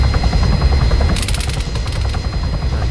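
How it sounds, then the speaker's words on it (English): Rapid machine-gun fire rattles over a loud, steady helicopter rotor and engine drone in the video game Arma 3, with the bursts beginning partway through. "We're taking fire, taking fire."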